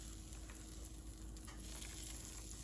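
Cornbread batter sizzles steadily in oven-heated muffin tins, a dense, continuous crackling hiss with no talk.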